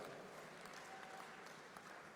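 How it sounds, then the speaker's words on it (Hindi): Sustained applause from a large crowd at a political convention in Rajasthan, a steady, dense patter of clapping filling the whole moment with no voices over it. "आप लोग ताली बजा रहे हो"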